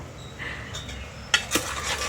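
A spoon stirs mutton curry in a cooking pot: soft scraping, then a couple of sharper metallic clinks against the pot, close and moderately quiet, with no talk.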